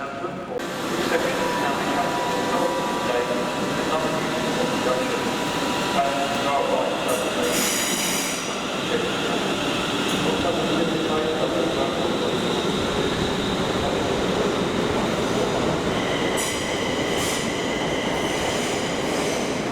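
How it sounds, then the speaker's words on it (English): Class 805 train at a London Euston station platform, with a continuous loud rumble and whining motor tones, plus brief high squeals of wheels and brakes. "we got the 805 on the platform, which will replace these old Voyagers"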